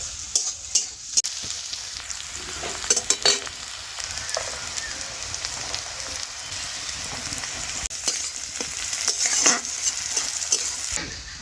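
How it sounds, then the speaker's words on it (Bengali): Onion frying in a pan for a Bengali chicken stew, with chopped garlic then added, a continuous close sizzle punctuated by stirring clinks and scrapes of a utensil throughout. "পেঁয়াজটা হালকা একটু ভেজে নিয়ে দিয়ে দেবো রসুন কুচি"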